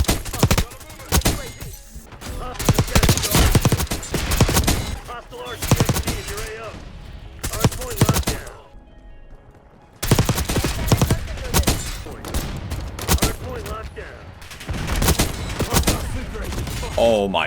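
Call of Duty Black Ops Cold War gunfire comes in loud bursts of rapid shots with brief pauses between volleys, one short silence near the middle, and a faint voice talking over parts of it.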